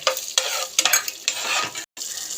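Chana dal, peanuts, coriander seeds and cumin frying in oil in a pan while being stirred, giving a steady close crackling sizzle broken by repeated scraping stir strokes and a brief pause near the end.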